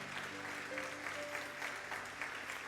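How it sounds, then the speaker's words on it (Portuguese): A church congregation claps steadily through a celebration service, a dense wash of applause with a faint sustained musical tone underneath and no speech. "Você pode aplaudir o Senhor?"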